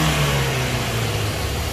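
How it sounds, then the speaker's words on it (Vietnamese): A Kia Carens CD5 engine runs steadily with its bonnet open in the engine bay, giving a continuous low hum with a slight rise in pitch. It is fairly loud and close, with no one talking. "Đây là khoang máy của em nó, thì hiện tại máy đang nổ"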